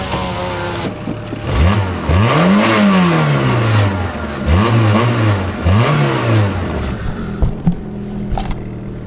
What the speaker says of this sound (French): En ce moment, elle fait un bruit un peu rallye.